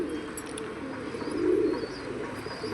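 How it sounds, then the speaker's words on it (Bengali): A male pigeon, one of a group of black pigeons, gives a soft low coo that swells briefly in the middle, close and fairly quiet against faint background noise. "খুব সুন্দর একটি নর পায়রা"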